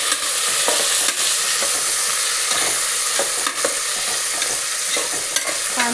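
Chopped onion and carrot sautéing in a pan for palak pulao, a steady sizzle with spoon scrapes and stirring knocks throughout, no talking.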